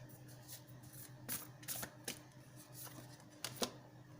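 Oracle cards being shuffled during a tarot-style reading, heard as soft riffling bursts and crisp card snaps at irregular intervals, close and fairly quiet over a low steady room hum, with no talking.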